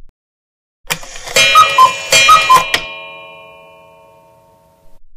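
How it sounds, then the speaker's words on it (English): A loud cuckoo clock chimes a short run of bright, ringing metallic tones in quick succession, then leaves a long fading ring into near silence. "making a loud cuckoo clock"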